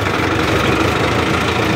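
An Arjun 605Di tractor diesel engine runs at a steady idle, a close, continuous low rumble with faint knocking texture and no speech over it.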